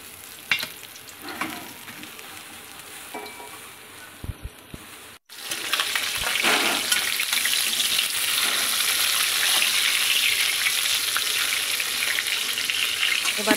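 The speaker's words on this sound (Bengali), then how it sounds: "এবার এক এক করে তেলের ওপরে মাছগুলো দিয়ে দিচ্ছি।" Live koi fish frying in hot oil, first with quiet stirring and a few light knocks, then breaking into a loud, steady, close sizzle that carries on unbroken to the end.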